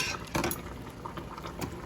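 A steady rolling boil of water in a canning pot fills the clip, with bubbling hiss and faint clinks of metal against the pot.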